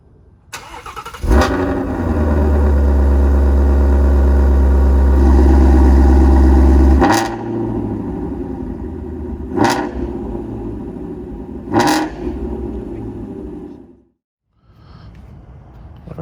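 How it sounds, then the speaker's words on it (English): A Ford GT350 Heritage Edition cranks and fires up with a loud, deep exhaust bark that settles into a steady rumbling idle, followed by a few sharp blips of the throttle before the engine shuts off. "I'm gonna start the car on this video, and let's hear a little exhaust."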